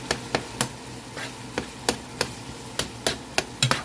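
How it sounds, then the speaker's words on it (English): Sharp knife strikes on a cutting board as vegetables are chopped, about a dozen uneven chops spaced across the clip, close and fairly crisp with no talking. "I just keep chopping away, y'all."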